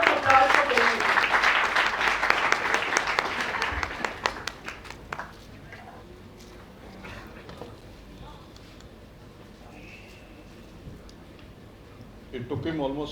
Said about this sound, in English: Give a big round of applause for Keshav.